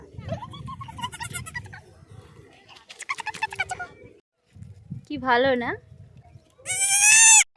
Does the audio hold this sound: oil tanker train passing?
no